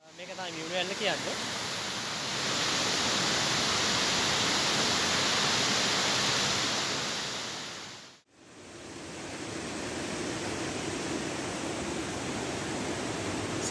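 Miyunu Ella, a roughly 60 m waterfall in the Kukulugala forest of Ratnapura district, Sri Lanka, gives a steady, dense rushing roar that holds constant with one brief dip partway through.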